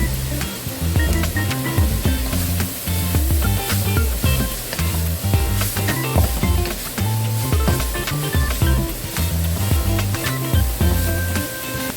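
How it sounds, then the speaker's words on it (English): Meat fried rice with carrot sizzles and crackles loudly in a hot frying pan, a dense continuous hiss broken by frequent scraping stirs, close up and steady throughout with no voices. "Allow it to fry for about 2 minutes."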